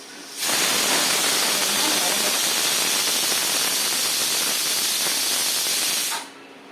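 Ridge gourd flesh sautéing in a pan for thuvaiyal gives a steady, loud hiss that starts abruptly, holds evenly for about six seconds and then cuts off.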